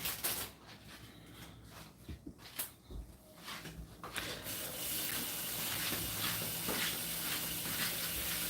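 Water runs steadily from a kitchen tap while hands are washed at the sink during a morning juicing session; the broadband splashing rush grows louder and more continuous after the first few seconds, with occasional clinks early on.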